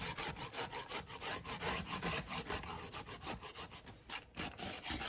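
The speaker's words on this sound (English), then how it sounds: "If you don't want to spend your time grating fresh, please feel free to use the ready ground nutmeg" Whole nutmeg is rubbed against a grater in quick, regular back-and-forth strokes, a close, dry rasping rhythm with a brief pause near the end.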